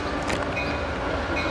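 A passenger train approaches Fullerton station with a loud, steady rumble and a faint high whine, heard close up without any voices.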